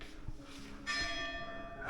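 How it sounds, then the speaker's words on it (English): Church bells ring out across a town in Abruzzo, Italy, with sustained overlapping tones and a fresh strike near the middle, heard from a moderate distance over faint background ambience. "Church bells."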